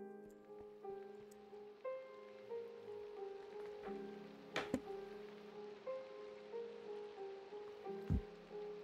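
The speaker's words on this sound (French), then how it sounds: "En plus, il pleut." Rain falls in Minecraft as a faint, steady hiss beneath soft, sustained game music notes, broken by a couple of sharp clicks.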